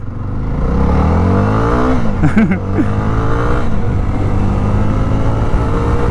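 The single-cylinder engine of a 2024 Jawa 42 motorcycle, rated at 27 PS, drones loudly while the bike is ridden. Its pitch climbs through the rev range, briefly wavers mid-clip and then settles into a steady pull.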